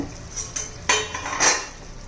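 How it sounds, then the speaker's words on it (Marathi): Metal pot lid lifted off a pan of simmering bottle gourd, a few light clinks and clatters of metal on metal, close and brief, with no voices. "आपण झाकण काढून चेक करूया"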